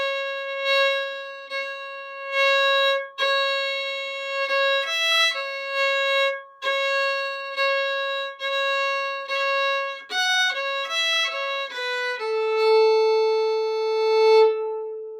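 Bare melody of the old-time breakdown tune Candy Girl, played as a string of clear, sustained single notes with small pauses between phrases, close and alone with no talking.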